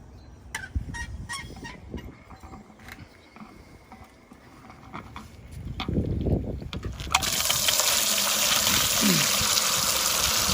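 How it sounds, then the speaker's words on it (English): Water bursts from an outdoor spigot into a bucket during a home drinking-water pipe flush, beginning after scattered clicks and handling noises and then rising into a steady, loud gushing splash that carries on to the end. "I'm going to go ahead and turn on this spigot, and we can see what comes out into the bucket."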